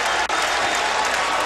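A basketball crowd at the Yum Center in Louisville applauds and cheers loudly and steadily during a Louisville vs Miami game, a dense continuous roar with no clear voice on top.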